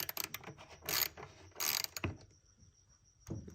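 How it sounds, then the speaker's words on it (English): Ratchet loosening a bolt on a car engine with a rough idle, a few close, loud bursts of rapid clicking separated by short pauses. "come over here and loosen up this bolt as well"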